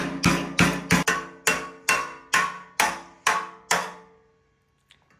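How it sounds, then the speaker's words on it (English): Nine sharp, ringing metallic strikes from a rubber mallet on sheet metal in a steady rhythm, each decaying briefly, then the ringing fades to near silence with a faint clink. "Just got my rubber mallet."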